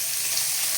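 Sliced onions sizzle in a pan while being fried golden brown for a bamboo shoot curry, a steady, even crackling hiss, brief and close.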